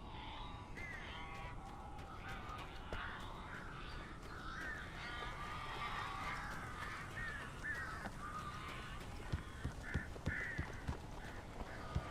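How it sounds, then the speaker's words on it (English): Crows caw repeatedly inside a cabin in the video game Alan Wake Remastered, harsh calls overlapping at moderate distance over a low ambient rumble, with a few sharp taps toward the end. "These birds are weird."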